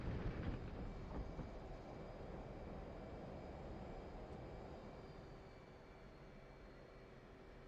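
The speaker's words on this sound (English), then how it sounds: "And afterburner." Jet afterburner roars in the DCS World flight simulator game during a carrier approach, a loud broadband rumble that swells at first and then slowly fades, with no talk.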